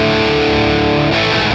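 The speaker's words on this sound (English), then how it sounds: "let's try the all on 10 bright with the Les Paul again" A Les Paul electric guitar played through a Friedman PLEX amp capture with all controls on 10 and the bright setting rings out as a loud, sustained distorted chord that shifts once to another voicing.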